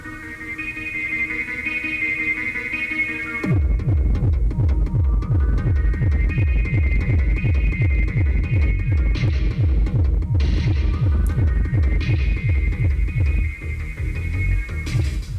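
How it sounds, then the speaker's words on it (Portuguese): Music plays through the sound system of a 2022 Nissan Kicks 1.6 Exclusive CVT: a sustained tonal intro gives way to a loud, bass-heavy beat with rhythmic thumping pulses filling the cabin, with no talking. "Eu vou colocar aqui uma música para vocês terem mais ou menos uma noção da distribuição espacial aqui do som."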